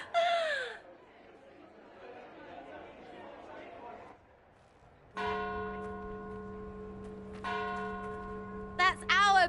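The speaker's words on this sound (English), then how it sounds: "That's our bells" Church bells peal out in sustained ringing tones after a burst of excited voices and quieter chatter, loud and close, with a couple of brief shrieks of delight rising over the bells near the end.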